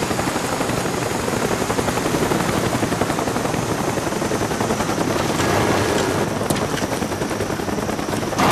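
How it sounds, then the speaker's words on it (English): A Cobra attack helicopter in the Call of Duty Black Ops game thunders with a loud, steady rotor roar, with machine-gun fire and battle noise mixed throughout and no pause. "Friendly Cobra inbound."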